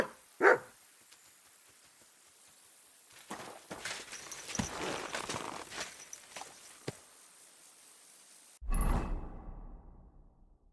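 The dog Mutt in Kingdom Come: Deliverance II gives a single loud bark at the start, followed by faint footsteps and clip-clop sounds and then a burst of noise near the end.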